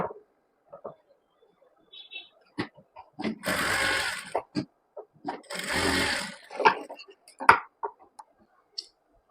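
A sewing machine stitches a katori blouse in two sustained runs of rapid mechanical whirring, each lasting a couple of seconds. Scattered clicks and handling taps come before, between and after the runs, with no talk.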